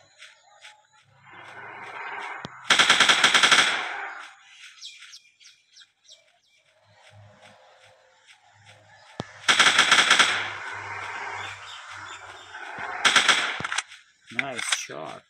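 Rapid bursts of automatic gunfire in a dinosaur hunting video game come in three loud volleys, with chirping birdsong and ambient game sounds filling the gaps between them.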